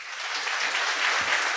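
Audience applause at a church film screening fills the short span, a steady wash of clapping at moderate level without any talk.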